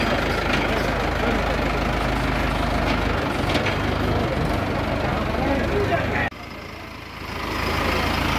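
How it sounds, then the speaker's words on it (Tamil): A heavy diesel tractor engine rumbles steadily at close range near Pamba on the Sabarimala route, with a brief drop in level before the low drone returns. "இந்த டிராக்டர்கள் மூலமாக தான் சபரிமலைக்கு எல்லா பொருட்களும் வந்து சேருது."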